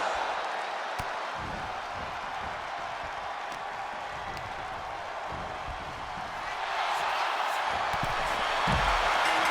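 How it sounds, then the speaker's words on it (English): Wrestling arena crowd at a hardcore pay-per-view event, a steady broad roar of cheering that swells louder near the end, with scattered claps and thuds under it. "Listen to this crowd."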